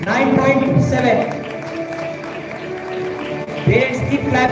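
Parents applaud at a first-year induction program inauguration award ceremony, a steady wash of crowd clapping that runs throughout under a loud announcer's voice, swelling again near the end.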